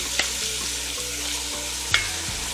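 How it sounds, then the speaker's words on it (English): Fresh garlic and onions sauté in a pan for a Bolognese sauce, with a steady sizzle broken by a few scraping stirs and two sharp clanks of a utensil. "sauteing."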